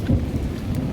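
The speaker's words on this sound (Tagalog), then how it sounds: "Sobrang lakas ng ulan." Very heavy typhoon rain pours down in a flooded residential area of North Caloocan, a dense, steady roar of downpour close by with low rumbling throughout and no pauses.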